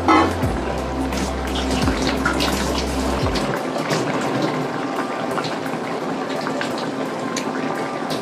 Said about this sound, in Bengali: মাছগুলো ঝোলের সঙ্গে ফুটলেই নামিয়ে নেব